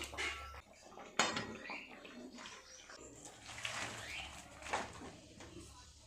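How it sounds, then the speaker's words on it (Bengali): A kadai (wok) being washed after cooking: quiet metallic clinks and scrapes with splashing water, including one sharp clank near the start, then softer rattles and swishes at a distance. "কড়াইটা আবার ধুয়ে একটু বসিয়ে দেবো"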